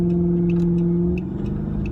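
A Dodge Charger R/T engine hums steadily from inside the car on a drive home, a low droning tone with light ticking and road rumble, even and close.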